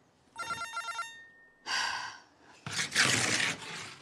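A telephone in a home rings in two short bursts, followed by breathy sighs and rustling movement nearby.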